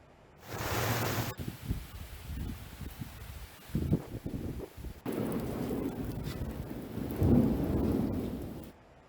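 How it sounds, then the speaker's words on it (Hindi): Rain and thunder in Haridwar during a monsoon-season downpour: rolling thunder rumbles rise and fade over steady hissing rain, with a loud crack near the start and another swell of thunder toward the end, no voices. "हरिद्वार में भी बारिश हुई जिससे उमस भरी गर्मी से लोगों को राहत मिली।"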